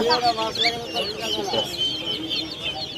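Chickens and young chicks at a poultry market cluck and cheep in a dense, overlapping chorus, high peeps layered over lower clucks, fairly close and continuous.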